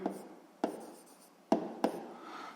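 A pen writes by hand on paper during a math exercise, a soft scratching in short strokes with a few sharper taps as the pen lands, close and quiet.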